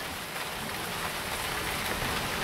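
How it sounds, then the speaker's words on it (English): Steady, dense rain pattering on surfaces around an off-grid cabin during a thunderstorm, a continuous close hiss with no distinct thunder. "waiting for the rain to pass."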